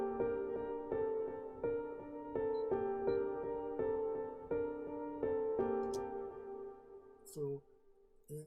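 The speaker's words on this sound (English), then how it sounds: "So I brought the arpeggio down to the lower pitch." A lowered-pitch arpeggio in a hip-hop beat, repeating plucked synth notes in a steady rhythmic pattern, loud and clear, ending with a few scattered percussive hits.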